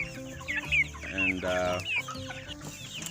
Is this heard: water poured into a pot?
no